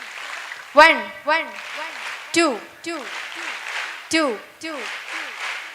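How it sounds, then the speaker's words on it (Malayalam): Audience in a hall clapping in short, sharp bursts during a counting game, each round of claps landing between a man's loud counting over a microphone. "1 എന്ന് പറയുന്ന സമയത്ത് 2 പ്രാവശ്യം കൈയടിക്കണം"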